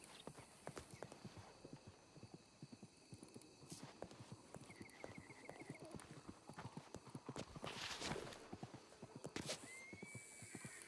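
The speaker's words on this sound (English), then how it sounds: "I hear the horse on the other side." Steady clip-clop of horse hooves with an occasional whinny in a video game, moderately close, over a busy ambient background with scattered clicks.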